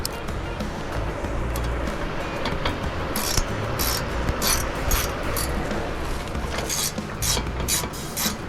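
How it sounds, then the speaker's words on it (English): A ratchet fitted with a T45 bit tightens brake bolts on a 2013 Ford Fusion. Quick bursts of rapid clicking come and go over a mechanical background. "Take the ratchet, T45, and get these started in."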